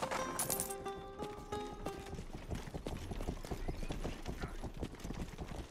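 Horse hooves clip-clop in a steady, even rhythm from a video game, close and fairly loud, after a short run of musical chime tones at the start, with no talk over them.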